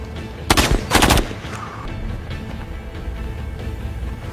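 Two loud bursts of rapid automatic gunfire crack out close together in a firefight, followed by fainter scattered shots and background noise.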